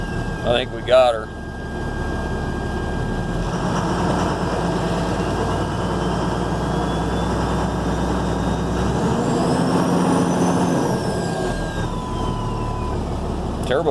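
A 2007 Ford F750 with a turbocharged Cummins 5.9 diesel runs steadily after an injector replacement, a close, continuous low rumble with a rising turbo whistle near the end and brief voices at the start.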